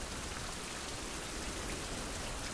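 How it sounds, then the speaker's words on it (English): Steady, dense rain hiss in the survival game Fountain of Youth on Iron Island, an even wash of falling rain with no breaks and no voices. "the rain is making the visibility far worse than it would normally be"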